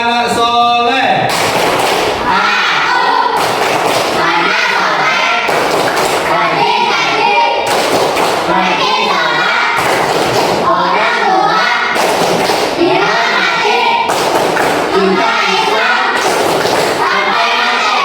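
A group of children in a classroom performs a rhythmic clap chant: repeated bursts of clapping and thumping arranged in a patterned beat, loud and close, with kids' voices chanting along.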